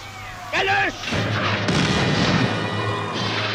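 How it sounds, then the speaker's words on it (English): Wartime newsreel battle sound of gunfire and shelling at the German invasion of Poland, a dense continuous roar of booms and crashes running throughout, loud and unbroken, with a brief voice-like cry near the start. "The roar of gunfire replaces the talk of statesmen, and the curtain of war falls over Europe."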